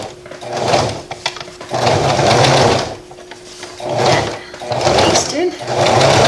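Sewing machine stitching a face mask with elastic, sewn over pins, running in several bursts of fast rattling stitches separated by short pauses, close and loud, with a voice talking between the runs.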